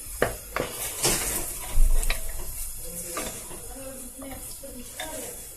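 Butter melts and sizzles in a pan while tarhana is prepared in a home kitchen, a soft hiss broken by clinks and scrapes of a utensil against the pan, heard up close.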